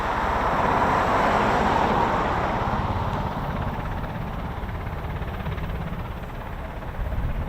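A CV-22 Osprey tiltrotor flying at an air base, heard as a steady, loud broadband rotor and engine roar that swells slightly at the start and holds fairly constant throughout, with no talking.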